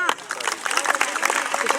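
Audience clapping at a pehlwani wrestling bout in Faisalabad: a steady patter of many hands, fairly close, mixed with crowd noise and a commentator's voice throughout.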